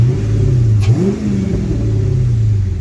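The engine of a first-generation Dodge Charger SRT revs hard toward its rev limiter of about 4,000 rpm, a loud, close, continuous roar that surges and dips once before holding steady.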